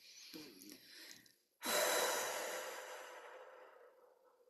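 A person takes one long, audible breath during a calm guided meditation, a sharp inhale followed by a slow, fading exhale, heard alone after soft speech.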